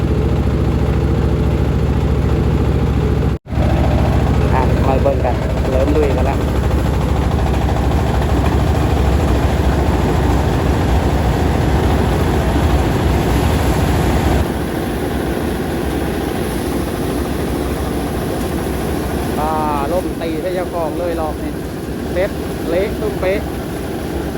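A farm machine engine runs steadily throughout a performance test in Khon Kaen, Thailand, a continuous mid-pitched drone with a brief dropout near the start, heard under frequent talk that continues over it.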